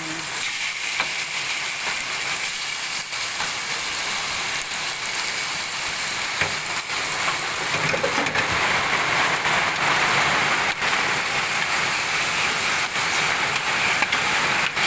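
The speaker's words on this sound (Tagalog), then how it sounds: "Lakas po ng ulan." Heavy rain pours down in a steady, loud hiss that runs unbroken for the whole stretch, with occasional sharper taps and crackles mixed in and no voices.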